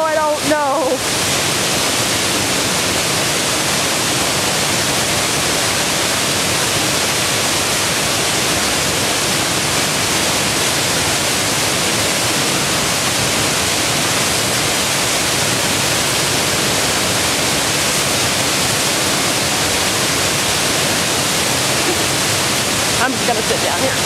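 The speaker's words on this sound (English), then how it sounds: "As you can see, this is right behind the waterfall" Moul Falls pours in a loud, unbroken roaring hiss heard from right behind the falling water, a dense wash of sound that stays constant from start to finish.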